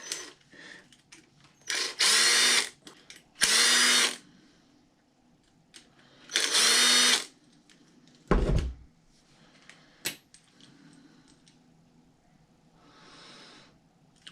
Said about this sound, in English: I like having two drills set up with two different sizes.